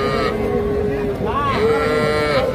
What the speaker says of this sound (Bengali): এগুলো সব ষাঁড় বাচ্চা